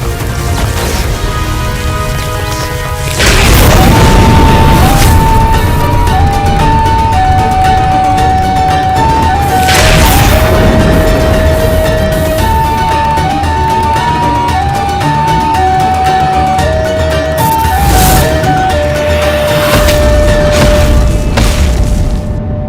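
Explosions in a mythological TV drama as Mount Kailash is destroyed: a sudden loud boom at about three seconds followed by further heavy bursts, all layered with a dramatic melodic score that runs throughout.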